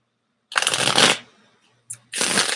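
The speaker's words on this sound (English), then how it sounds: "I have a deck of cards. I shuffle them." A deck of playing cards shuffled twice, two sharp riffling bursts close to the mic with a short pause between them.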